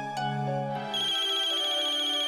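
A telephone rings in a home in a Hindi TV drama, a bright electronic ringtone with sustained tonal chimes, loud and close, with no talking over it.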